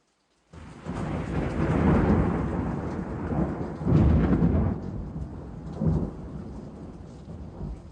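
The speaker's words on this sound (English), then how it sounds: "The storm crashed upon me." Thunderstorm sound effect: steady heavy rain with a long rolling thunder rumble, then a louder crack of thunder midway and another shorter burst before it eases, all without voices.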